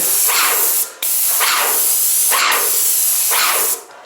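An airless paint sprayer fires four separate bursts of loud, steady hissing spray at tongue and groove boards, each burst lasting roughly a second, with brief pauses between them and no talking.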